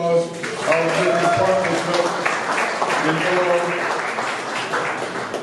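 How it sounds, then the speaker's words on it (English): Light applause from a civic audience at a downtown opening-night event, scattered clapping running under a voice that keeps talking throughout. "give them a round of applause"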